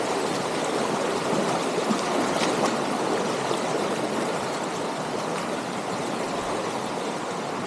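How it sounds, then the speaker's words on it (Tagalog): A river beside a farm lot in hilly country rushes steadily, its close, even wash of flowing water unbroken and without voices. "Ito po yung pangalawang river."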